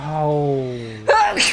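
A single sharp human sneeze during a live-streamed Team Sonic Racing session, abrupt and close after a drawn-out spoken exclamation, with game sound underneath.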